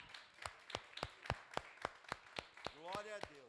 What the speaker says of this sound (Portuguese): pode bater palmas, eu estou muito feliz com vocês hoje